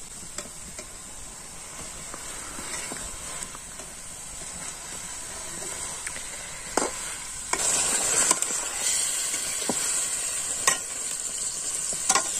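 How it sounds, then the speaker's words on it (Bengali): Chicken leg pieces sizzling as they fry in a spice masala, a steady close hiss broken by occasional scraping stirs and louder crackling bursts. "মশলা কষার মধ্যে মাংসটি ছেড়ে দিচ্ছি।"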